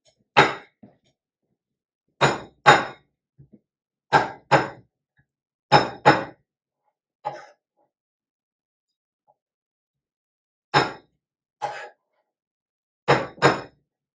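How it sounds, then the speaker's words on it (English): A knife blade pressed flat and struck against garlic cloves on a countertop, giving sharp, loud knocks mostly in quick pairs, repeated several times with quiet gaps between, alone without talk. "mash it up pretty good with using this on the countertop, our knife over top, and just giving that a really good pop"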